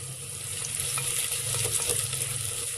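Green chilies and cumin sizzle steadily with onions in a pot for a mutton kunna dish, a dense close crackle with light stirring scrapes and no voices.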